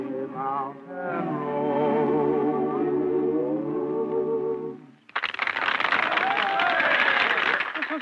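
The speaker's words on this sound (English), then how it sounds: "Just listen to that applause and watch their faces." A barn dance audience bursts into loud, full applause right after a country song, taking over abruptly from the singing and band music and continuing strongly to the end.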